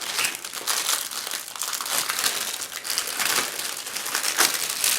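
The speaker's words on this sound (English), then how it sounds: "let's open the plastic bag" A plastic bag from a 1/72 scale T-80U tank model kit is opened and handled, producing continuous loud, close crinkling and rustling throughout, alone without speech.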